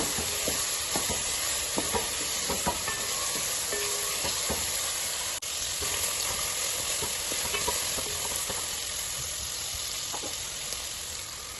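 Garlic, onion and tomato sizzle steadily in a pan while being fried for a spicy chicken gravy, with occasional stirring scrapes over a continuous close, even crackle and no talking.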